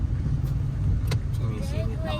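A car engine hums steadily from inside the vehicle on a drive through traffic to a school, with faint clicks and brief voices over the low drone.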